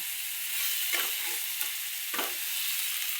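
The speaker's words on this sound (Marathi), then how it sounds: "त्या मसाल्यातच आधी भाजून घ्यायचं चांगला कारण शिरलं पाहिजे ना त्याच्यात" Soybeans roasting in spice masala in a pan, with a steady broadband sizzle and two distinct scraping stirs of a spoon against the pan, close and moderately loud, no talking.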